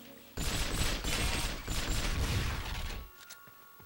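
Rapid gunfire and a grenade blast from the James Bond video game From Russia With Love, a dense burst of loud shots lasting a few seconds before cutting off to a quieter tail.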